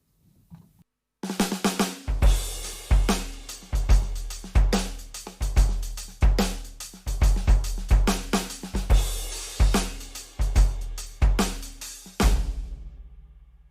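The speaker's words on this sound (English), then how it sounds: "Or I could add two different sorts of delay and a gated reverb onto a nothing particularly special drum kit" A Yamaha DTX6 electronic drum kit is played through two delays and gated reverb: punchy, steady hits with clipped, gated tails and echoes, loud and close, with no talking.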